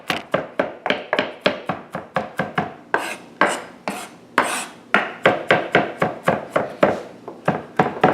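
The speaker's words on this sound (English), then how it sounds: "You don't have to chop it super fine. Just rough chop it." Garlic being rough-chopped with a knife on a cutting board: a quick run of sharp, evenly spaced chops, close and clear, about two or three per second, with short pauses between bursts and no talk.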